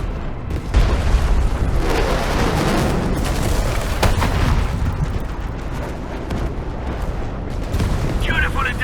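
A booming artillery strike lands on a marked spot in the game Arknights Endfield, a sustained rumbling barrage of blasts and crackling impacts, loud and dense, with a brief high tone near the end.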